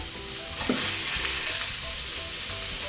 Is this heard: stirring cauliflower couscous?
yes